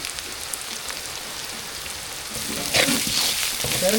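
Dry red chillies, onion and asafoetida frying in a pan, a steady soft sizzle that swells into louder crackling spatter toward the end, with no talking.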